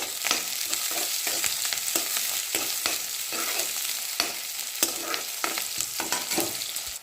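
Cumin, dried red chillies, onion and garlic frying in a pan, a loud, close, continuous sizzle broken by regular scraping strokes of a spoon stirring, with no talking.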